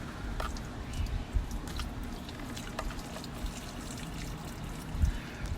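Water draining out of a leaking pool pump, a faint wet trickle and soft gurgling squishes with occasional small splashes, close and low in level.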